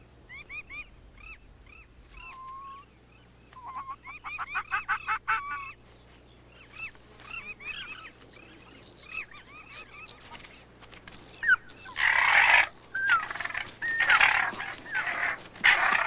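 Goslings give repeated short, high peeping calls in quick bursts and clusters, fairly close. Near the end a louder rushing noise takes over.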